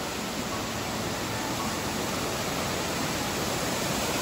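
Amboli waterfall in the Konkan hills, a constant broadband roar of rushing water, loud and unbroken with no distinct events and no voices.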